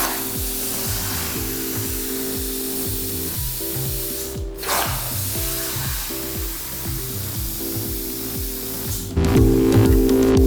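A STV CNC plasma table cuts steel rose pieces with a loud, steady hissing roar and a rapid rhythmic pulsing underneath, broken by a short dip near the middle before it resumes and gets louder at the end.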